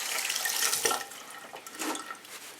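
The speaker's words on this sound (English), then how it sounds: "Let me wash my hands a little bit here." A tap runs steadily into a sink while hands are washed in a basement apartment, a close splashing hiss with small shifts in tone as the hands move through the stream.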